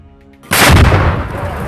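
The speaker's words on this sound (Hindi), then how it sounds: "इसके बीच हरियाली के बीच छिपकर अल-कुद्स का एक और लड़ाका दनादन रॉकेट दागने लगता है।" One sudden, loud launch blast as a Hamas fighter hidden in greenery in Gaza fires rockets, followed by a sustained roaring rush that stays close and strong.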